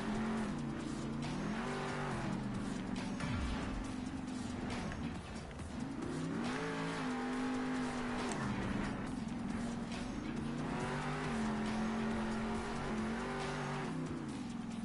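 A monster truck in the Monster Jam video game roars without a break, its revs rising and falling in waves as the tires grind and skid. Loud and close, with no voices.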